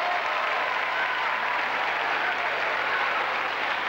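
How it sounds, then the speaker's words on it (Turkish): Thick, even applause from a university ceremony audience honoring students after a concert, a continuous wash of many hands clapping at steady loudness with no break. "konserimize o güzel coşkulu alkışlarla katılan öğrencilerimizi de hep beraber yürekten alkışlıyoruz"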